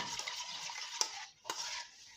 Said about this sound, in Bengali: কিন্তু নাড়তে থাকতে হবে, এইভাবে যদি আমি রেখে দিই তাহলে এটা কিন্তু জমে যাবে